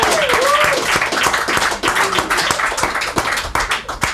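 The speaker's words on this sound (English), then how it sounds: "Guys, give him a round of applause." An audience at a live comedy roast battle breaks into a round of applause: dense, sustained clapping with scattered whoops and whistles, loud and continuous for the whole stretch.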